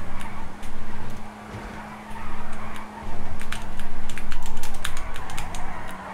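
In the video game GTA V, a 2013 tuned drift car slides through city streets. Engine drone rises and falls in bursts as tires screech and skid repeatedly, loud and close, with sharp clicks over the top.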